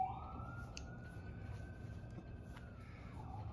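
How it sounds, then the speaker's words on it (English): A distant emergency siren wails steadily beneath a broad rumble of traffic noise, rising slightly at the start and fading toward the end. "every time I turn on to record, the sirens go."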